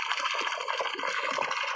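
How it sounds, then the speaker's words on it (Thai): Water gushes steadily from a borehole well pipe in rural Thailand, a continuous close splashing rush with no break in its flow. "น้ำออกแล้วจ้ะนี่"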